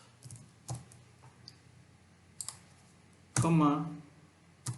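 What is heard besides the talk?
typing on a computer keyboard while writing code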